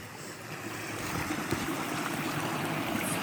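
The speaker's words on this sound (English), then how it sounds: "Here's another nice little waterfall" Steady rushing water of a small waterfall on a creek in Yellowwood State Forest, a continuous broadband splash and gurgle at even strength throughout, with no voices.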